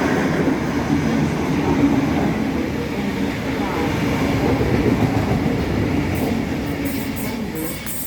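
A train pulls into a platform at Harris Park station, with a loud, continuous rumble and clatter of rail wagons close by, while an automated platform announcement plays over it.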